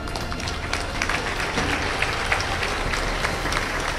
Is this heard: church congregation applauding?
yes